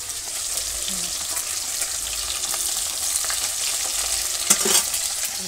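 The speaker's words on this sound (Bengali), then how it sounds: "এখন মাথাগুলো ভাজবো" Hilsa fish heads fry in hot oil in a village kitchen, giving a steady close sizzle with occasional stirring clinks and a faint voice in the background.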